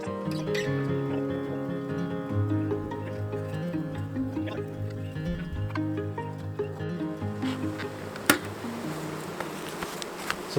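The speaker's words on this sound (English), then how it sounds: "So the bees are calm, even with all that activity." Honeybees buzz around an open hive while it is being split, a steady close droning hum that continues throughout, with a few sharp clicks from handling the hive near the end.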